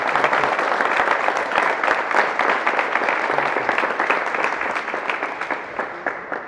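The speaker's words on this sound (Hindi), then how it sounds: "सर के लिए ताली" An audience at a Tata Safari car inauguration breaks into dense applause for Vinod sir. The crisp, rapid clapping holds steady and thins out slightly toward the end, with no talking.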